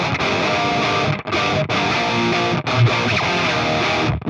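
A heavily distorted electric guitar tuned to Drop C chugs out a rhythm riff of sustained chords, broken by a few short pauses, played alone.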